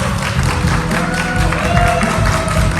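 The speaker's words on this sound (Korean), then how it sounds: "여러분의 큰 박수로 모시겠습니다." Audience applause greeting the first session speaker at a webtoon industry conference in Busan, steady dense clapping from a hall crowd filling the whole stretch at constant loudness.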